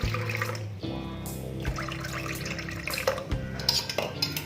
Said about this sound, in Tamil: இது கூட கரைச்சி வச்ச புளி தண்ணியும் ஆட் பண்ணிக்கிறேன்.